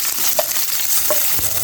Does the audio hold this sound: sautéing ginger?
yes